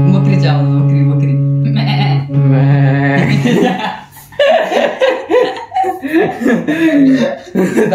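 A person imitating a goat's bleat with a wavering, nasal vocal tone, loud and close, followed by chuckling laughter and talk.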